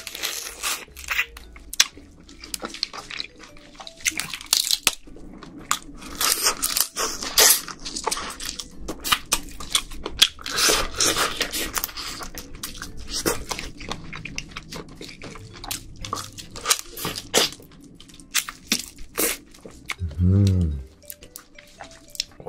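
Snow crab and red crab being eaten up close, with dense irregular crunching, cracking of shell and wet tearing and slurping sounds, loud and continuous over the stretch, occasional brief vocal sounds.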